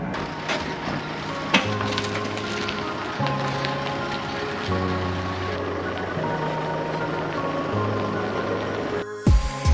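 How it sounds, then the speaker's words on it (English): Rain falls steadily at a campsite beside a freshwater creek in tropical far north Queensland, a constant close hiss with scattered drip and patter on nearby surfaces, no voices. "now it's a cool change and it's raining"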